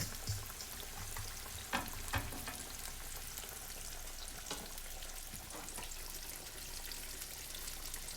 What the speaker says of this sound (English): Now I get to start playing with the food that's frying.